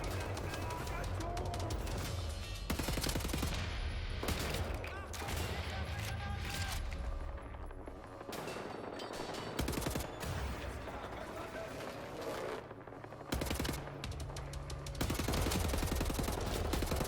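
Bursts of automatic assault rifle fire in the video game Wolfenstein: The New Order, loud and repeated in rapid clusters across the scene, mixed with game effects and occasional talk.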